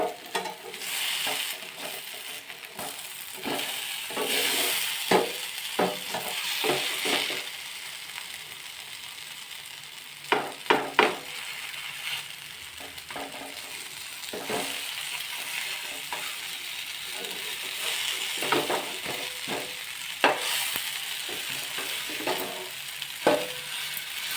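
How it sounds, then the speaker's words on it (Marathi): Bitter gourd (karela) being stir-fried in an oiled pan, a steady sizzle broken by irregular clacks and scrapes of a spatula against the pan, with no talking. "आपण आता ही कारली जी आहेत ना ही परतून घेणार आहोत"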